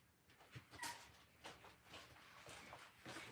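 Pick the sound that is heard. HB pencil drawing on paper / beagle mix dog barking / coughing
beagle mix dog barking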